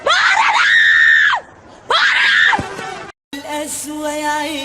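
A person lets out loud, sustained screams in two long bursts, followed by a shorter strained vocal outburst; no other sounds compete.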